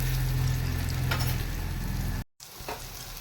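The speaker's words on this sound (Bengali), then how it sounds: "আমি সর্ষের তেলে ভাজা করছি," Fritters of lentils with pumpkin and bottle gourd peel frying in mustard oil, a dense continuous sizzle with a low bubbling hum, broken by a brief silent gap before the frying resumes more softly.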